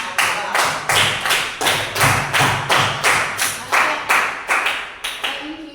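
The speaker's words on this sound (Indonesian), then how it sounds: "Oke, aplaus dulu untuk kelas ini." An Indonesian classroom bursts into unison applause, with about a dozen loud, evenly spaced group claps in a steady rhythm, close and continuous for several seconds.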